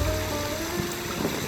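Water flows steadily in a soft continuous rush, a close and even wash of sound with no voices.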